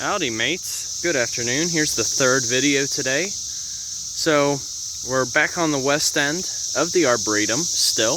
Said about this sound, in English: you can really hear the cicadas singing loudly